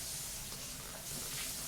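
Hot boiled water poured into the bottom of a tamale steamer pot, a steady broadband hissing splash that holds at an even level throughout, close and alone without talk.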